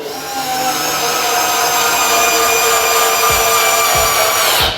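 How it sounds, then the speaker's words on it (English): A small Flex electric screwdriver drives a screw back in with a loud, steady, close motor whine that runs for nearly five seconds, broken near the end by a few low knocks before it stops. "Let's drive that screw back in."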